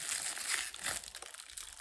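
Crinkly plastic packaging being torn open and crushed by hand in a quick burst of rustling, close and fairly loud, easing into softer scattered crackles.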